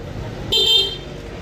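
A short, bright stock motorcycle horn honk lasting about a third of a second, loud and close, over steady background noise.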